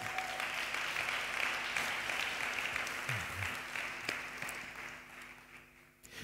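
Church congregation applauding during a sermon, sustained dense clapping from a large crowd that slowly fades toward the end, heard from some distance.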